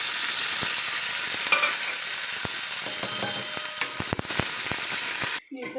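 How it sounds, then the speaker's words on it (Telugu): Green chilies fry in a tablespoon of oil with a bright, steady sizzle and crackle, scattered spatula taps near the end before the sound cuts off abruptly. "మిరపకాయలు వేగాయండి"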